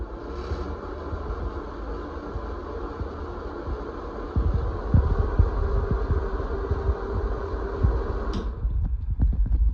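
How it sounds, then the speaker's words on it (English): An old bathroom exhaust fan runs with a steady, continuous whir and hum, with some faint irregular rattling and clicking layered in before the noise cuts off near the end. "typical bathroom exhaust fan"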